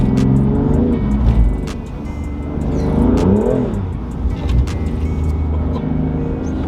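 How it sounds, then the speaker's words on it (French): A BMW accelerates hard and slides on a track while drifting, its engine revving up and falling in loud, close waves, with tyre noise and sharp clicks over a steady drone. "déjà j'accélère à peine les gars, ça glisse de ouf"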